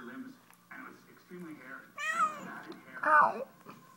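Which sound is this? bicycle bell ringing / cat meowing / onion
cat meowing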